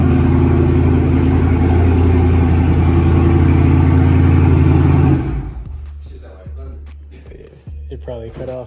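A widebody Dodge Charger Scat Pack roars loudly and steadily through a cold start at high idle, then drops off abruptly partway through, leaving quieter rumble with scattered knocks and faint background noises.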